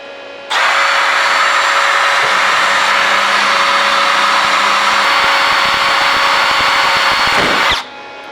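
Power drill running steadily at high RPM as the bit bores through a steel FAL gas block, a loud continuous whine from start to finish that cuts off abruptly at the end.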